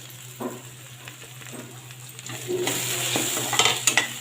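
Hot oil tempering sizzles in a pan, growing louder partway through as red chili powder is tipped in, with occasional clinks of a spoon stirring.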